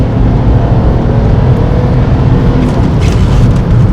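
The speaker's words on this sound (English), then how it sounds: "So if you do put your foot down, you will get a good blast of acceleration." BMW E90 330i sedan with the N52 straight-six accelerating hard, a steady, loud engine drone heard from inside the car, continuous and unbroken for the whole stretch with no talking.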